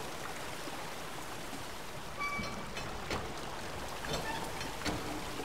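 Steady rushing of flowing water through a gate in the game Obduction, a continuous broadband wash with faint clicks and splashes, fairly soft and even throughout, with no talking.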